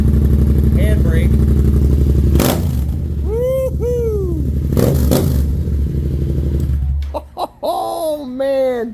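A 2022 Yamaha YZF-R7 motorcycle fitted with a full exhaust revs loudly up close, with sharp throttle blips and a rising whine, while a person whoops excitedly over it.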